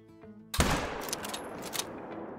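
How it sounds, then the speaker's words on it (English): A single powerful shot from a .338 bolt-action sniper rifle in the hunting game Call of the Wild. It cracks suddenly after a quiet tonal hum and then rolls into a long, echoing tail across open terrain. "Shot's going to be 150 yards out right there."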